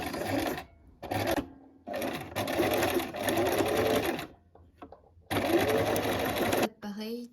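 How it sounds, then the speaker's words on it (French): A sewing machine stitches back and forth to hold elastic on a headband, running in loud close bursts with brief pauses between runs. A voice talks alongside the stitching. "vous maintenez votre élastique par un petit point avant-arrière à la machine"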